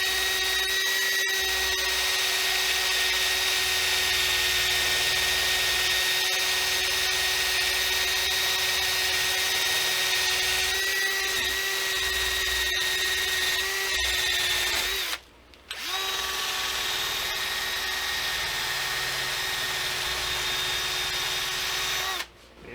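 A power buffing wheel polishes a handmade guitar nut, a steady loud whirring drone with a constant tone that runs nearly uninterrupted, cutting out briefly twice as the piece is lifted away.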